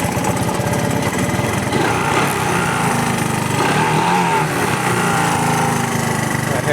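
A three-wheeler engine idles after a cold start, running as a loud, steady, fast-pulsing putter close by for the whole stretch with no clear change in pace.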